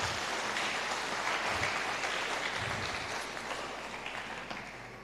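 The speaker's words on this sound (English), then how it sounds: "Maybe we give ourselves a big clap for this." An audience at a civic centre celebration applauds in a dense, steady wash of clapping that holds for about five seconds and slowly fades slightly toward the end.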